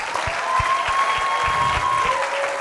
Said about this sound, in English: let's give this group a, a round of applause